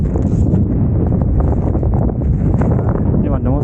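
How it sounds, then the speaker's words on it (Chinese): Strong wind on a high plateau in Tibet buffets an old tent and the microphone with a loud, continuous roaring rumble, unbroken throughout. "我搭帐篷的时候，刮大风"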